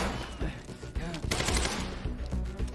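Rapid bursts of gunfire from the video game Quantum Break, with dense overlapping shots and impacts that stay loud and busy throughout, mixed with game sounds and what may be voices.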